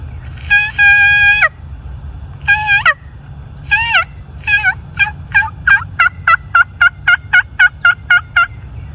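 A mouth turkey call blown by a person imitates turkey yelps, starting with a few long drawn notes and then a quick run of short, evenly spaced yelps, loud and close.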